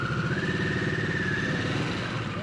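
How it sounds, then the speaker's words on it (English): A 2022 Harley-Davidson Nightster 975 motorcycle holds a steady high rev against its limiter in neutral, a continuous loud engine drone with a whining tone that stays level throughout, close by. "There's a rev limiter in neutral, so when you're in neutral,"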